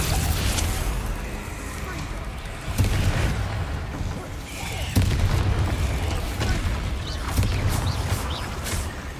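Confringo fire spell exploding in the Hogwarts Legacy video game, a run of booming blasts with sharp onsets around three, five and eight seconds over a constant rumble of game sound and music.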